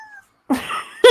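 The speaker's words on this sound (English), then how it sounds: "That's one pissed off cat." An angry house cat, worked up after nearly knocking over a lamp, lets out loud close yowls in two bursts, the second a strong drawn-out wail, with a short silent gap before the first.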